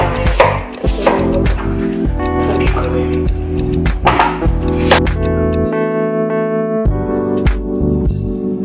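Peeled apples being chopped with a knife on a board in a home kitchen, a run of quick, sharp knocks near the microphone, with background music playing under them.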